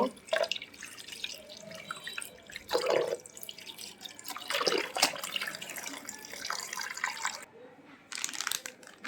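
Red water lily flowers are rinsed by hand under running water, with splashes and drips coming in irregular bursts over a soft, steady trickle.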